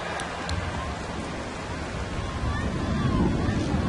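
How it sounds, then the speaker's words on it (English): Heavy rain pours down on a baseball stadium during a Cleveland at Kansas City game, a dense, steady hiss of downpour that swells slightly toward the end. "Luis Valbuena batting in a downpour"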